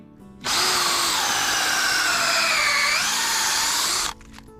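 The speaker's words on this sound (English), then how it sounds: "we go ahead and drill a hole in the tree." A power drill whines steadily for about three and a half seconds, its pitch dipping briefly as it bites into a maple tree's wood, then stops abruptly.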